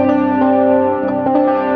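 A guitar runs through a clean amp model on a Valeton GP200 with the bass turned fully up, giving a full, boomy sustained chord with a few light picked notes and string noise over it.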